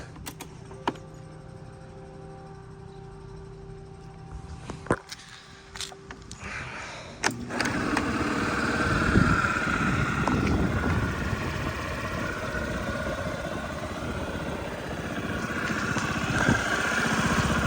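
A fuel-injected 2018 Honda Tact AF79 scooter from Japan runs at idle, its engine noise swelling louder and denser after a few clicks and holding a steady close drone.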